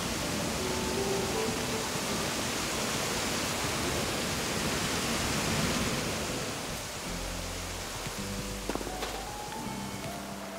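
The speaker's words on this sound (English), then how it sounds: "Listen to the waves. How tranquil and calming the waves are." Broadband wash of surf rolling continuously on a beach, steady and soft, with a few faint tonal sounds toward the end.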